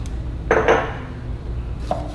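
A knife chops the end off a fresh jalapeno on a cutting board: two close, sharp cuts in quick succession, then a softer third tap a moment later, near and clear against a quiet kitchen.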